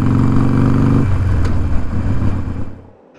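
A Harley-Davidson motorcycle engine rumbles loudly and steadily as the bike is ridden, the throttle shifting partway through before the sound drops away sharply near the end.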